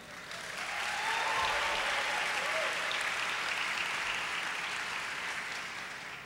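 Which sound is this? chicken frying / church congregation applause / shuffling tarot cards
church congregation applause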